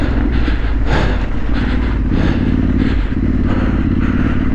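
A trail motorcycle ridden off-road on a green lane makes a loud, close engine drone that holds steady throughout, with clattering from the bike bouncing over rough ground.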